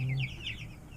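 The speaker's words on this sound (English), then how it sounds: "hello, birdies" Farm chickens give a short burst of close clucking, a few soft rising calls over a low hum, with no talking.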